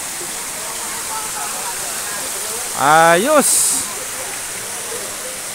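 River water at Talon River in San José, Batangas, rushing steadily over a low barrier built to pool it, a continuous broadband wash with a single short spoken word briefly rising above it midway.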